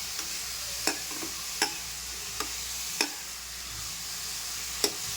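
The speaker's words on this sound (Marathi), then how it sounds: "त्यानंतर हे चांगलं परतून घ्यायचं तुपावर आणि थोड्या वेळ झाकण ठेवायचं" Grated bottle gourd sautés in ghee in a pan, a soft steady sizzle broken by several sharp clicks and taps of a spoon stirring against the pan, quiet and close with no talking.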